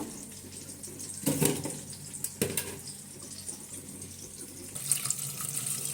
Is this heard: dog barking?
no